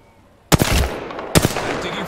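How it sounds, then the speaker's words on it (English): Gunfire in Apex Legends: two loud bursts of shots about a second apart, each cracking sharply out of near silence and trailing into a rumbling echo. "I'm taking fire."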